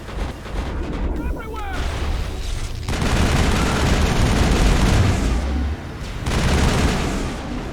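Heavy gunfire and booming blasts from a Mass Effect firefight on PC, with a sniper hitting a vehicle; loud, dense bursts fill most of the stretch with brief lulls between volleys.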